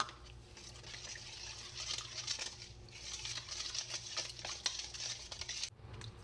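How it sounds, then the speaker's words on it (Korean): Water and cider being stirred together for a cabbage cucumber kimchi brine, a steady watery swishing and light patter at moderate level with no talk. "사이다는 반컵을 넣고 섞어주세요."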